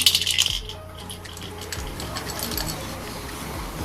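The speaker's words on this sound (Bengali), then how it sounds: "এবার আমি বাতাসা দিয়ে দিচ্ছি" Small batasha sugar drops clatter into a bowl with sugarcane jaggery for Satyanarayan Puja sinni, a bright burst of hard little pieces landing at once, followed by quieter rustling and handling close by.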